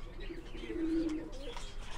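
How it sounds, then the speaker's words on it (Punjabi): Masked pigeons on a farm give a single soft, low, rolling coo near the middle, quiet and fairly close against faint background noise, with no talking. "ਆਹ ਦੇਖੋ ਆਹ ਨਕਾਬਪੋਸ਼ ਹੈ ਜੀ ਕਬੂਤਰ"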